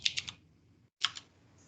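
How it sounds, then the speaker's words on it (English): Computer keyboard typing in two short bursts of three quick clicks each, separated by a brief pause, close and fairly faint, with no talk. "Who's typing?"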